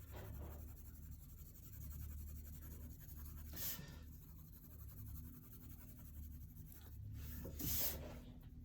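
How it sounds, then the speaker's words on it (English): A soft 2B graphite pencil shades a sphere on paper, giving a faint, continuous scratchy rubbing with a few brief louder strokes in a quiet room. "So now I switched to a 2B, and you'll notice your softer pencils will dull out faster because they're softer"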